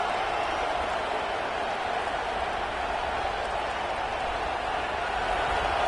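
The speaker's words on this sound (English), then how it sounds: "here comes the noise. This crowd is trying to inspire this defense to make a big red zone stop" A stadium crowd in a college football video game roars as a loud, steady wash of noise that stays constant and unbroken throughout.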